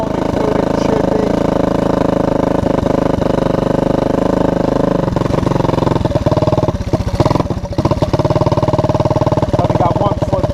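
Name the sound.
Honda ATC200M three-wheeler engine running while riding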